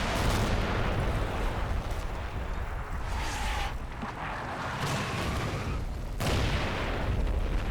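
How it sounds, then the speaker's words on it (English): A 25-pounder artillery barrage in the Combat Mission video game, set in Operation Epsom at the Odon bridges: continuous heavy rumbling booms and overlapping blasts, dense and loud throughout, with a sharp new impact near the end. "The 25-pounder barrage to the west of objective Donjon seems to be doing the same."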